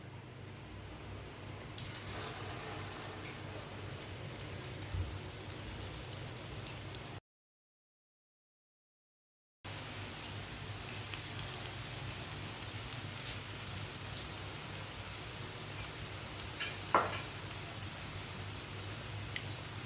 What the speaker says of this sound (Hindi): ऑयल हमारा अच्छी तरह गर्म हो चुका है। अब एक एक कबाब लेंगे, इसमें डिप करते जाएंगे और डालते जाएंगे।